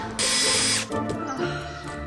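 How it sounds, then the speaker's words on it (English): A power drill whines loudly for a short burst, then drops to a lower, uneven grinding as it bores into mineral wool. "I'm just drilling in the mineral wool."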